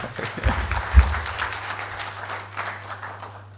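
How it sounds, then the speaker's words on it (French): An audience at a conference talk applauds the visiting speakers, a short burst of clapping from a moderate crowd that quickly thins and fades out. "je vous demande d'applaudir nos orateurs qui ont fait le déplacement"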